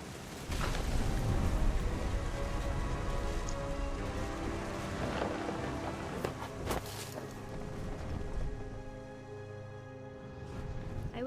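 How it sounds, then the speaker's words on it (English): Steady rain pours in a storm within the video game What Remains of Edith Finch, with broad rumbling thunder swells and a few sharp cracks rising through the continuous downpour. "Thunder sounded much too close and full of angry power."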